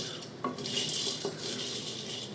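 Sweet fishing bait ingredients fry in a pan, soft sizzling beneath clinks and scrapes of a utensil stirring against the metal, close and fairly quiet.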